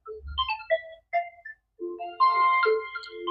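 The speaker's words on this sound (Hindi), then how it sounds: "बीच में मेरा फोन आ गया है।" A phone ringtone plays alone indoors, a bright electronic melody of short chiming notes in a quick rising and falling pattern, pausing briefly before continuing more densely.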